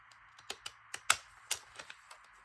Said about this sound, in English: It'll only be a couple strokes of these scissors.